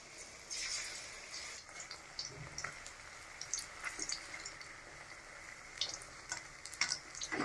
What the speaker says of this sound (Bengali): আমি এখন এই ব্যাটার দিয়ে বড়া ভেজে নেব।